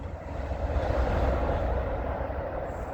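VIA Rail train 61, running from Montreal to Toronto, rushes past at speed in Newtonville, Ontario, as a loud, broad, steady roar of wheels and rail noise close by.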